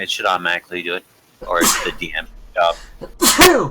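A single sharp sneeze bursts out near the end, amid casual conversation among tabletop role-play players.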